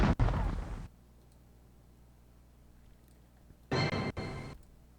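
Two bursts of an explosion sound effect on a Windows 95 and 3.1 computer, each a loud blast followed by a short rumbling decay, separated by a few seconds of quiet hum.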